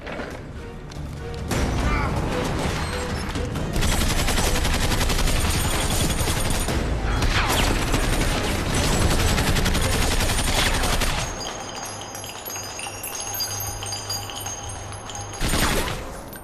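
Sustained, dense automatic gunfire and crashing impacts from the action movie Extraction roar for about ten seconds, then give way to a quieter scene with a low hum and one final loud burst; voices are heard briefly.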